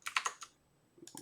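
A few quick keystrokes on a computer keyboard during Python file I/O coding, a tight cluster of sharp clicks followed by a pause and two or three lighter taps, close and clear with no talking.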